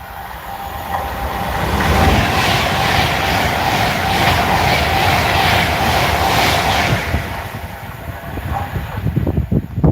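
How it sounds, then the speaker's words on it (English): A Pendolino passenger train passing at the lineside, a loud sustained rush of wheels and air that swells quickly, holds for several seconds, then eases off into rumbling and clatter at the end, with no voices. "that was just a Pendolino"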